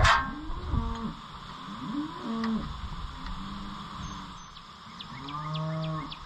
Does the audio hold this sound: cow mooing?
yes